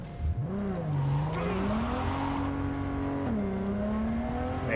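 Car driven in the video game Cyberpunk 2077, its engine revving and rising in pitch with gear changes and a squeal of tires, loud and continuous without talk.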